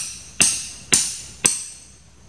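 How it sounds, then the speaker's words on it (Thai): Climbing pegs hammered into a small tree trunk outdoors to climb to a giant honeybee nest, three sharp, loud, evenly spaced blows each ringing briefly before the next strike. "ตอกทอยต้นเล็กนะครับ"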